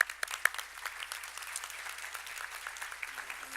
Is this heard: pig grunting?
no